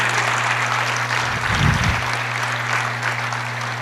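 Audience applause in a church during a sermon, a burst of clapping swelling briefly then fading under a steady low hum from the sound system.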